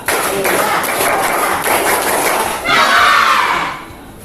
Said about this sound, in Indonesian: Coba tepuk semangat dulu semuanya.